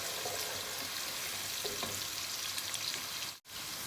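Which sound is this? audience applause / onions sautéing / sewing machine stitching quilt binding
onions sautéing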